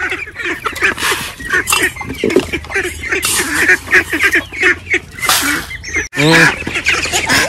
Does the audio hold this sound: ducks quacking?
yes